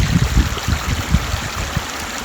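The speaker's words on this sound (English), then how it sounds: "Told about this really cold creek." Cold creek water flowing steadily close by, a continuous rushing babble with low gurgling pulses, no voices.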